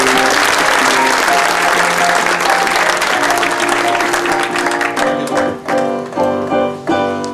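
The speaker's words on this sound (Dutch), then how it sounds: "Geeft u een daverend applaus." Loud, thunderous applause from a crowd at a Dutch Dream Foundation event, dense and sustained, then thinning into scattered claps with music-like tones near the end.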